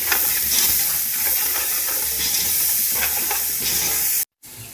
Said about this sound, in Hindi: यहाँ पे देखिए मैंने इसको प्याज को चॉप कर लिया है और मैं इसको ऐड कर रही हूँ